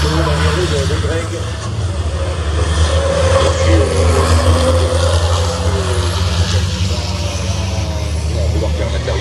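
Racing trucks roar around the Nogaro circuit during a truck grand prix, a dense, heavy engine rumble sweeping past at speed, with a commentator talking continuously over it.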